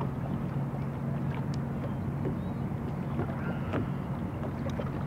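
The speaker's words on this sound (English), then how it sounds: "let me get this boat out of these pylons real quick" A motorboat's engine drones in a steady low hum as it moves off from bridge pylons on the Potomac River, amid wind buffeting the microphone, with faint splashes and no clear speech.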